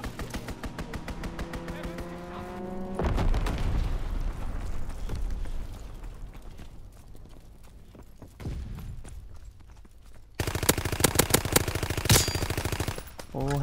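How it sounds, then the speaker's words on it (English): Gunfire from an enemy strafing run in a WW2 video game, with bursts of rapid machine-gun fire and explosive rumbles layered over game sound effects, building to a loud, dense volley near the end. "Enemy strafing run inbound."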